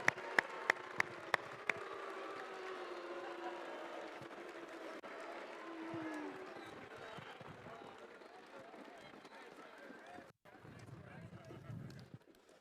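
Audience at a FIRST Tech Challenge robotics championship in Iowa cheers and applauds an award-winning team, a steady roar of clapping and low crowd voices with a few sharp claps near the start, fading slightly toward the end.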